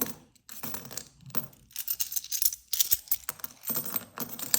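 Coins clatter and clink in quick irregular bursts as they drop into a container, with brief pauses between handfuls; close and moderately loud.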